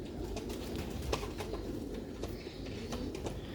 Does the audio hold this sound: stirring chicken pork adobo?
no